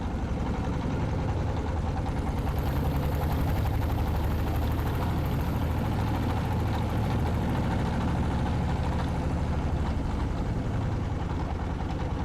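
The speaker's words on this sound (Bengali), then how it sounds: "খুবই আস্তে আস্তে চলছে নৌকাটা" A fishing boat's engine chugs steadily as the boat moves slowly on the water near Monpura, a constant low drone with no talking.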